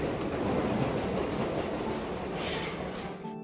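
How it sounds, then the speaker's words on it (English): Brio toy train rolls in on a wooden track with a steady close rumble and faint clicking, running continuously for a few seconds before easing off at the end. "Here comes the first train of the day."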